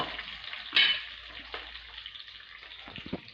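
Mustard seeds and a finely ground paste frying in plenty of oil in a home kitchen, a steady soft sizzle with a brief louder crackle burst near the start and light stirring clinks later.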